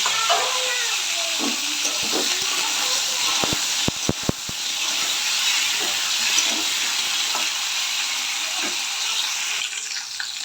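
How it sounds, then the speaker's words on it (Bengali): Potatoes and papaya tipped into a hot tempering keep up a loud, steady sizzle and hiss, with a brief cluster of sharp utensil clatters as they are stirred. "এবার আলুগুলো দিয়ে দিচ্ছি পেঁপেগুলোও দিয়ে দিচ্ছি"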